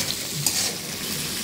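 Washed yard-long beans are added to onion and chili frying in oil, producing a steady, close sizzling hiss with a brief stirring clatter.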